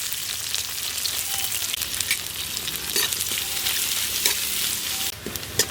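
Chopped onion sizzles steadily in hot oil for country chicken curry, with a continuous frying hiss and occasional scrapes of stirring, no voices.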